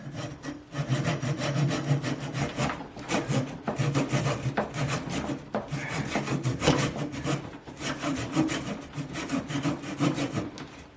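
Steady back-and-forth rasping of a hand saw cutting through bald cypress wood, continuous rhythmic strokes close up, with no talking.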